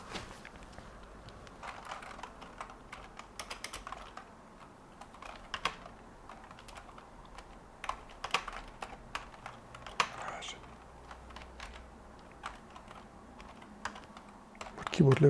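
Computer keyboard typing during live X.org C code development: irregular clusters of close, crisp key clicks run throughout, with a louder clatter near the end.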